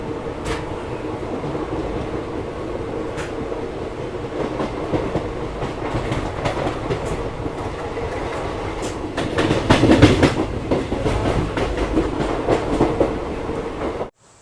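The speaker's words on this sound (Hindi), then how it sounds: "अपनी ट्रेन का बिल्कुल ऑन टाइम डिपार्चर हुआ है दिल्ली सराय रोहिला रेलवे स्टेशन के प्लेटफॉर्म नंबर 2 से" Bikaner Intercity train hauled by a WDP4D diesel locomotive pulls away from a platform, a steady rumble of rolling coaches with clickety-clack wheel beats that swell louder midway, heard from aboard with no talk.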